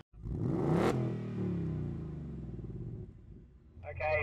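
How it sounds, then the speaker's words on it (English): A 750hp Roush Mustang revs hard at the start of a launch control drag run, its loud engine roar rising and holding steady under continuous talking, with a brief higher whine near the end. "We're going to do a launch control run between the two cars."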